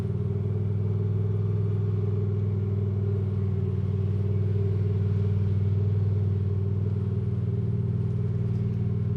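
A Walker ride-on lawn mower's engine runs steadily and close by, a continuous low droning rumble with a constant hum and no breaks or speech.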